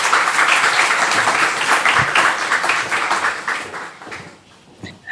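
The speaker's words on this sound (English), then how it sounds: "A big round of applause to say hello." Dense applause from a large audience at a New European Bauhaus Days livestreamed event, steady and loud for about four seconds before thinning out with a few last scattered claps near the end.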